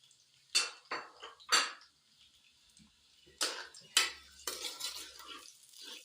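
Sliced onion being stirred in a little oil in a pan: a spoon scrapes and clatters against the metal in irregular bursts, close and fairly quiet, with a faint sizzle and pauses between strokes.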